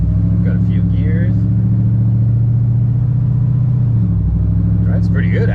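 A supercharged 426 HEMI Dodge Dakota drives along with a loud, deep, steady engine rumble that holds, dips near the four-second mark and carries on, with faint voices at moments.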